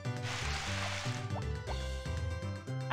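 Watering a corn crop in a farming game: short gurgling pours and drips in quick rhythmic bursts over a low musical backdrop, fairly quiet.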